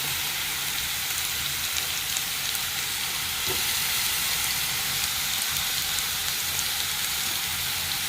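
Tomato goes into a pan of frying ginger and garlic masala for a fish dish, giving a loud, unbroken hiss of sizzling that fills the whole stretch without talk.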